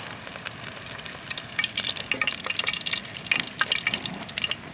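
A taco shell fries in a pan over a campsite stove as it is flipped, giving a steady hiss of crackling oil with sharper spits and pops that grow busier midway, with no talking over it.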